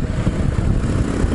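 A Harley-Davidson Fat Boy with an air-cooled 103 engine pulls away, its low, loud, rumbling exhaust steady and close for a moment.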